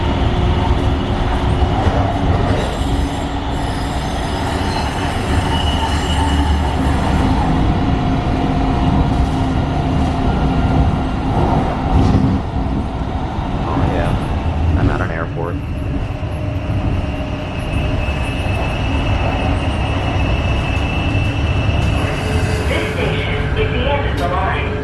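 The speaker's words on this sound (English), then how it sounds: "It's cool to be on light rail again." A light rail train in the Seattle area runs steadily for the whole stretch, with a continuous loud rumble and rail hum, some higher squeals and a few clunks, heard from on board.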